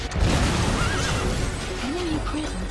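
A horse in the video game Metal Gear Solid V: The Phantom Pain whinnies in a couple of wavering bursts over a dense, noisy background of rumbling and clatter.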